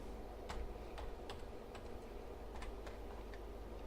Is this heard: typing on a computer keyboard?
yes